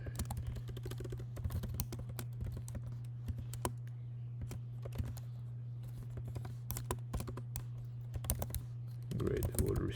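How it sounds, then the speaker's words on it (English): Typing on a computer keyboard while coding Python, rapid irregular key clicks close to the microphone over a steady electrical hum, with brief pauses between bursts. "This is just me typing."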